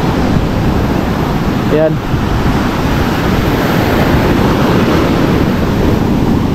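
Strong ocean waves wash continuously onto the shore, a loud, unbroken roar of surf with wind buffeting the microphone, and one short word spoken briefly over it.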